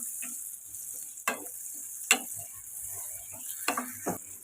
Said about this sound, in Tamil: இதை கடாயில் சேர்த்து நல்லா சாட்டே பண்ணிக்கலாம்